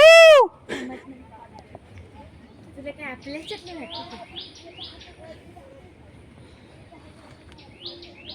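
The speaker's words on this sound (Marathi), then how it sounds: "पक्ष्यांचा आवाज येतो" In the hills at Manvelpada, Virar, after a brief loud whoosh at the start, small birds chirp in short, high bursts in the distance, with faint voices and rustling underneath.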